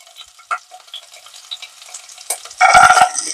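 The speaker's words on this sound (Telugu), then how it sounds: "కొంచెం ఆనియన్ వేస్తున్నా, ఒక 2 పచ్చిమిరపకాయలండి" Onions and a couple of green chilies are added to a hot pan while cooking a fenugreek and pea pulao. There is a loud, close sizzle and fry, with clattering stirring before it. No voices are heard.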